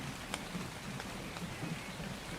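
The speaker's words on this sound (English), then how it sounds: "And a little bit of rain." Rain falls in the video game Ark Survival Evolved, a steady soft patter of drops with a few sharper ticks, heard alone at a moderate level.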